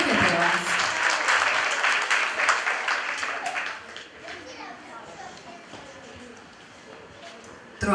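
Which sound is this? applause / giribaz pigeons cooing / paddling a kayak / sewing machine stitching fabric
applause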